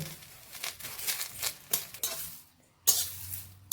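Neem leaves are tossed and fried in a kadai, with repeated light scraping and clinking of a metal spoon against the pan in irregular strokes, a brief pause, then a sharper knock and renewed stirring.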